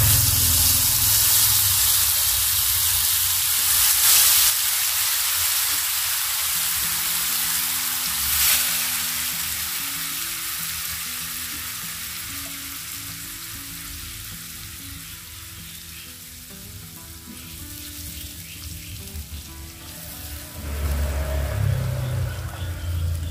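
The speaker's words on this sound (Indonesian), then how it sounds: "Di sini saya sudah menyediakan minyak panas. Masukkan bumbu yang tadi sudah saya haluskan," Ground spice paste for tilapia hits hot oil with a loud, close sizzle that gradually quiets to a softer crackle, then flares up again near the end as it is stirred.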